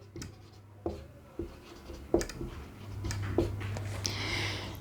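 A pen taps and scratches across paper while a maths question is written out, a few distinct strokes spaced irregularly, close and fairly quiet over a low background hum.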